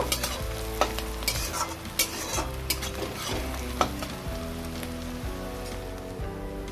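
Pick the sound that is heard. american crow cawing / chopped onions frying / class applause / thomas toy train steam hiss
chopped onions frying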